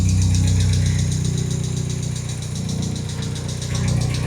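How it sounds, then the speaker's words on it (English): An idling Mercedes M111 four-cylinder engine in a racecar swap, supercharger belt removed, runs steadily with a fast, even metallic ticking from a noisy valve lifter over the low rumble, close and loud throughout. "We have a noisy lifter."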